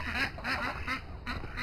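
Runner ducks quack in a quick series of about five nasal calls, fairly close and clear, outdoors in winter.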